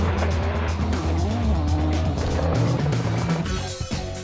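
Rally cars roar through the 2004 Rally Argentina shakedown in the Andes foothills, loud engines revving hard with tire squeal and skidding. The racket is close and continuous, then easing slightly near the end.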